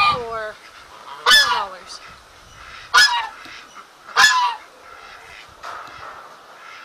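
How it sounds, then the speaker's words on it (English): A goose honks loudly four times at spaced intervals outdoors by a garden, each harsh nasal call sharp and close, with a brief spoken word and light background noise between honks. "Dang goose."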